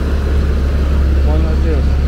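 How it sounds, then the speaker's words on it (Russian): A car carrying a Coca-Cola delivery rolls past on a city street in Mexico City, its low engine hum steady and fairly loud, with a voice talking over it. "Вот едет автомобиль, смотрите. Кока-колу везут."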